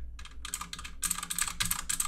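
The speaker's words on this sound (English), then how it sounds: "The other thing too is typing on the keyboard." Close-up typing on a computer keyboard, quick bursts of clicky keystrokes with short pauses between them.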